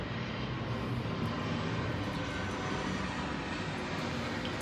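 Airplanes fly overhead, giving a steady, loud, broad engine roar that fills the whole stretch without letting up, with no talk over it.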